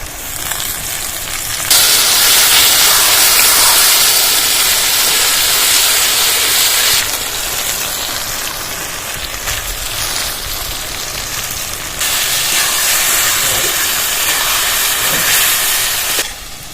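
Ground spice paste for potol kalia sizzles hard in a pan with onion and potato, producing a loud, continuous hissing spit that rises and falls in intensity.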